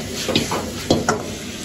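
Fried chicken pieces tossed in a wok over high flame for lemon chicken, a steady sizzle punctuated by a few soft scraping, clattering tosses of the pan, close and moderately loud without speech.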